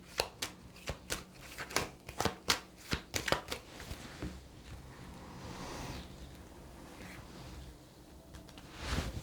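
Tarot cards being shuffled by hand, a run of quick crisp riffling bursts close up, followed by softer rustling and a final shuffle at the end, with no talking.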